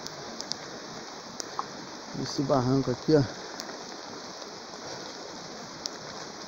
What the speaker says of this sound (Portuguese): Chuva não para, né?